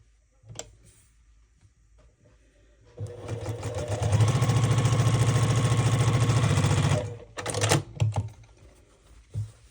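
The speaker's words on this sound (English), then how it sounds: "I'm going to sew a 1/4 inch seam here" A sewing machine stitches a quarter-inch seam through the fabric pieces of a Dresden appliqué. The needle hums in a steady run of about four seconds with short bursts before and after, close by and alone.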